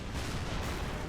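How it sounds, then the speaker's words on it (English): Flak guns in the World War II strategy game Men of War Assault Squad blast in a dense, rumbling barrage, continuous and loud with no talk. "The flak guns are now starting to kick into the fight."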